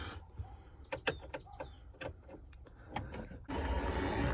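Screws are removed from the gauge cluster of a 1992 Honda Civic dashboard, giving sparse, close clicks and small metallic ticks in an uneven rhythm, followed by a steady low rustle.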